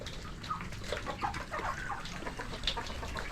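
Native chickens cluck and chicks peep in a roofed coop with nests, a continuous busy mix of soft clucks and thin high cheeps nearby, with no talking.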